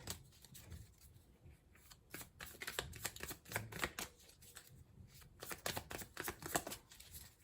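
A shiny, slippery tarot deck is shuffled close by, giving quiet bursts of riffling and flicking card sounds in uneven clusters, with brief pauses between handfuls and no talking.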